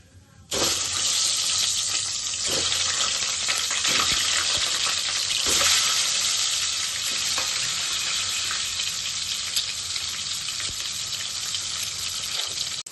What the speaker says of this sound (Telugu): ఒక స్పూన్ పసుపు వేసుకొని గుడ్లు వేపుకుందాం